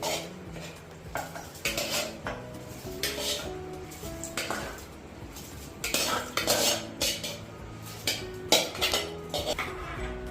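Soaked rice and moong dal for pongal are stirred in a pot, a metal spoon repeatedly clinking and scraping against the vessel in irregular bursts, close and clear, with no talking.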